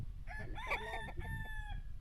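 A rooster crows once, a clear drawn-out call at moderate distance over low background rumble.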